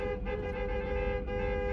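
A car horn blares in one sustained toot lasting the whole moment, loud and near, with engine rumble underneath and no voices.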